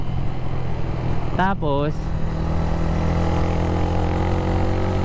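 A motorcycle engine idles steadily and fairly close throughout, a constant low hum with a single short spoken word cutting over it partway through.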